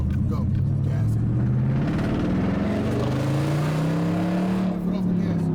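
A manual Dodge Challenger with a student driver accelerates from a start, engine note rising steadily in pitch as it pulls, loud and close from inside the cabin, with people talking over it.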